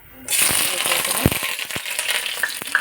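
Chopped onion and garlic hit hot oil in a wok and break into a crackling sizzle, with sharp pops and spatters over a steady frying hiss, close and moderately loud.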